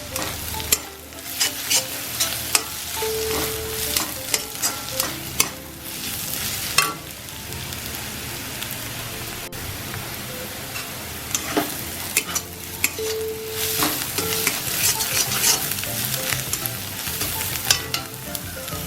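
Onions frying in a pan until almost golden brown, a dense continuous sizzle with frequent scraping strokes of a spoon stirring them, close and fairly loud throughout.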